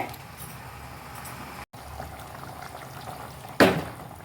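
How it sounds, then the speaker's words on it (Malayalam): Low bubbling and simmering curry hisses softly throughout, broken by a brief gap and a sharp clink near the end. "നന്നായിട്ട് തിളച്ചിട്ടുണ്ട്"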